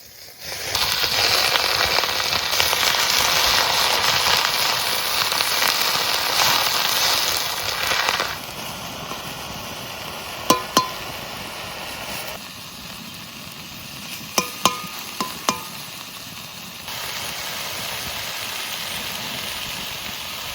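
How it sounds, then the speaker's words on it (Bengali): Susuni greens frying in oil with onions in a pan: a loud, steady sizzle that drops to a quieter hiss with a few sharp pops, then swells again. "শুশুনি শাক ভাজা হয়ে গেছে"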